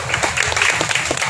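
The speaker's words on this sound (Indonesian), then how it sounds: "Kita kasih tepuk tangan dukungan kita itu." Audience applause at a viewing party for a vice-presidential candidates' debate in East Jakarta, a dense wash of many hands clapping throughout, fairly loud and close, with some crowd voices mixed in.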